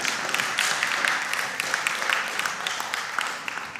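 Dense, steady applause from a school audience at an academy competition fills the space, a continuous wash of many hands clapping at moderate distance.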